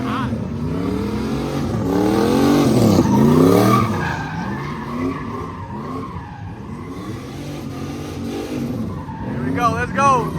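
A BMW 335is engine revs and whines with sweeping pitch changes as tires squeal during a street sideshow, while voices talk over the noise.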